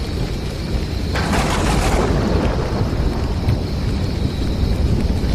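A thunderstorm effect for a rural Bengali horror tale: a sudden crack of thunder at about one second rolls into a brief rumble over steady rain-like hiss, then fades back to the constant wash of storm noise.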